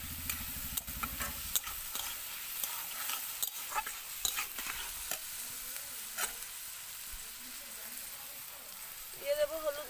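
Chopped potato and slit green chillies go into a pan of lightly fried onion, and a steady broadband sizzle follows with scattered stirring scrapes and clicks. The frying noise stays fairly loud and continuous throughout.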